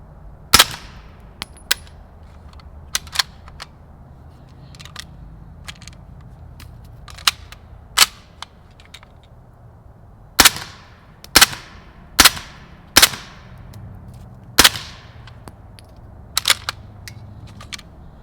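A Zenith ZF5 with a suppressor fires Fiocchi 158 ammunition in a series of sharp, loud cracks spread irregularly across the stretch. Some shots come singly and some in quick pairs, with quiet gaps between them.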